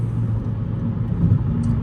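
A 10th-generation Honda Civic hatchback with a catless downpipe drives at night, its engine giving a low, steady rumble heard from inside the car with no talking.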